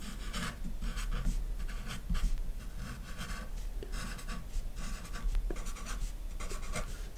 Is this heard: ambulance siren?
no